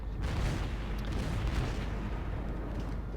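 The Amagi battleship fires a main gun salvo in World of Warships, a deep rolling boom of heavy artillery that rumbles on loudly and steadily for several seconds, with no talking.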